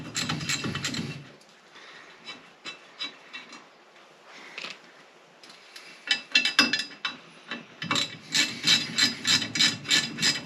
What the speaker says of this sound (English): I'll run these on the wire wheel, clean up the ends of these for the wheel cylinder.